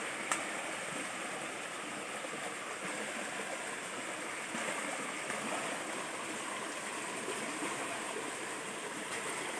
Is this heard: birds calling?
no